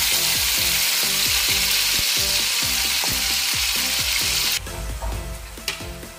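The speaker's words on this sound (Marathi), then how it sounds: "तेल थोडंसं गरम झालं की आपल्याला त्यामध्ये तयार केलेली पेस्ट टाकून घ्यायची आहे।" Spice paste dropped into hot oil for an egg malai masala: a loud, dense, continuous sizzle up close that eases a little toward the end.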